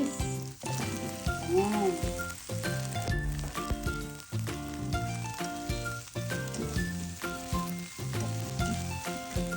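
Okra stir-frying with ham in a pan, a loud close sizzle with scraping stirring and clattering, a brief word spoken near the start.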